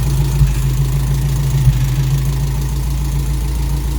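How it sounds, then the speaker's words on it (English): A Toyota Corolla KE55 with a 4K-C engine idles steadily just after its first start, a constant low rumble running alone and close by. "We got the car idling, and it's idling not bad."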